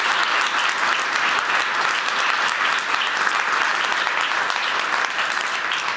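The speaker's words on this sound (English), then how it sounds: "could you give very warm applause to these wonderful speakers?" A conference audience gives warm, sustained applause for a panel of speakers, a dense even wash of clapping filling the whole stretch without letup.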